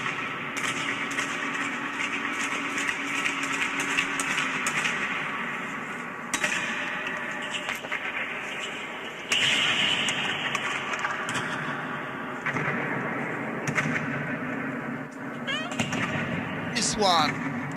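Dub reggae sounds run from tape and echoing around a dome, a dense, continuous wash of reverberant music with sharp percussive hits and abrupt cuts at several points, loud throughout.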